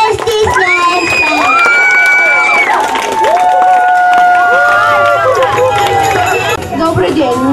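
An audience at a children's fashion show cheers loudly, with shouting children's voices, crowd noise and some applause close by throughout.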